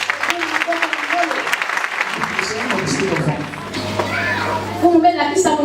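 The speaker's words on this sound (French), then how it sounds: "Acclamez fort." A church congregation claps and cheers loudly in a broad, continuous wash, while a preacher's voice talks over the noise.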